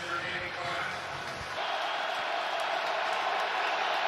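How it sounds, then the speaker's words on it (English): Stadium crowd noise at a 2021 AFC Wild Card NFL playoff game between the Bengals and Raiders, a loud continuous roar that swells further midway, with a voice talking over it at the start. "This is tough communication here with the crowd noise."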